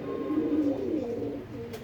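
Pigeons kept for sale coo in low, murmuring phrases close by, a steady soft cooing that swells slightly and then eases off without pause.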